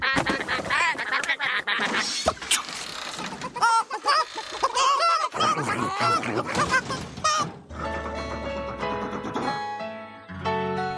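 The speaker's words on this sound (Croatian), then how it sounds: "A u staji se patke i dalje nisu mogle smjestiti" Cartoon ducks in a farm barn quack and honk in a busy, noisy flurry over lively music, the calls overlapping and loud throughout.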